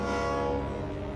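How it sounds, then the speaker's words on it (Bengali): A cartoon train horn blares in one loud, sustained, steady tone as a train approaches, heard alone. "ওই দেখো, ট্রেন আসছে।"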